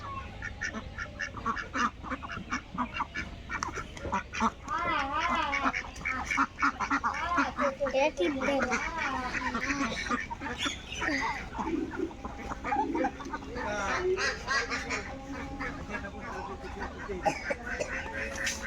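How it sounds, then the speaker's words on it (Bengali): A flock of ducks quacks continuously and noisily on a rainy evening as they come back from the river, with overlapping calls close by and some voices in the background. "থেকে সব হাঁস চলে আসতেছে তো সন্ধ্যা হলেই আর নদীতে থাকে না হাঁস"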